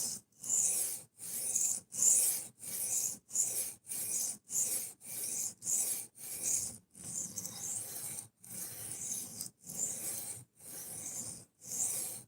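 Steady rhythmic rasping strokes of a knife being sharpened, about a dozen even back-and-forth scrapes close up with short gaps between them, no talking.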